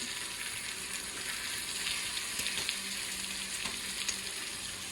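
Eggs frying in oil in a pan alongside bacon and spinach, a steady close hiss and crackle of spitting oil with faint scrapes and taps as they are flipped.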